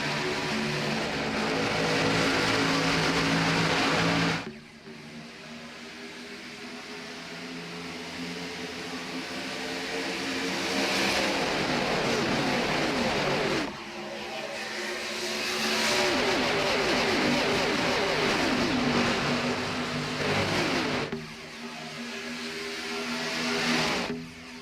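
Race car engines in a Daytona International Speedway racing game roar loudly as the pack accelerates from a restart, with long rising and falling engine sweeps broken by brief shifts, engine noise alone.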